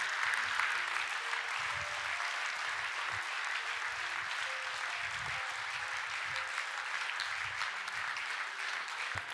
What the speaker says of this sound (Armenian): արեք ծափահարենք Տիրոջը։